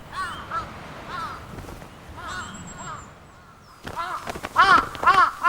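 Jungle crows in a Hokkaido winter squabble noisily, with bursts of harsh, repeated caws from several birds, some close and loud, others fainter, breaking into a busier overlapping clamour near the end.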